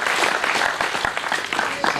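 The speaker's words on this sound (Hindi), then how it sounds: "अपने सम्मान में एक बार तालियों की बरसात हो जाए" Dense, steady applause from a large audience at a Hindi kavi sammelan poetry gathering, loud and close, filling the whole stretch without a break.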